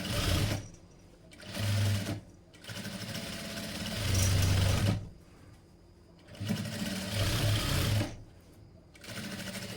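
A sewing machine stitches the side joints of a blouse in several loud, close bursts with short pauses between runs, the motor whirring steadily during each stretch.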